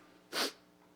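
A single sharp sneeze bursts out close by in a quiet room during a synagogue service, brief and loud against faint background.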